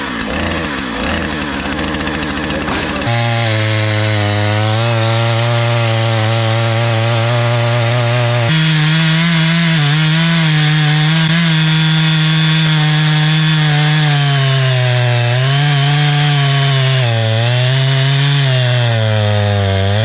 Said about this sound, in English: let's turn the choke off now